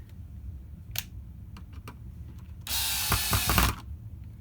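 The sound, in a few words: screws being put back into an AlphaSmart 3000 keyboard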